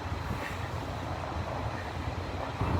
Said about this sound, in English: It says Wanman, which is a one-man operated train.